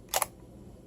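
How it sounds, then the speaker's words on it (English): A Canon camera fitted with a Yongnuo 50mm f1.8 lens fires on a slow shutter setting: two sharp, close mechanical clicks about a tenth of a second apart, near and alone against a quiet room. "I have a slow shutter set on purpose so you can see the actual aperture working."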